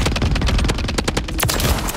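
Rapid automatic gunfire from Call of Duty Warzone on Rebirth Island, loud and close, a dense burst of shots hammering for two seconds with no talk over it.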